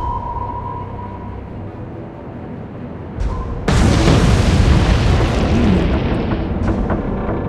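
Torpedo strike on a ship in the naval wargame Atlantic Fleet, Royal Navy Battle of the Atlantic: a low rumble, then a sharp onset and a loud, sustained booming explosion that roars for several seconds with no talk.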